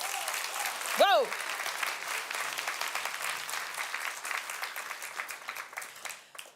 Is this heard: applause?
yes